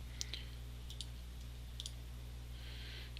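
Three or four quick, light computer mouse clicks, spaced about a second apart, sound faint and close against a quiet room hum during CorelDRAW design work.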